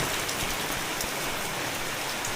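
Steady, dense rain falls nearby, hissing and pattering evenly on surfaces from start to finish, with no voices.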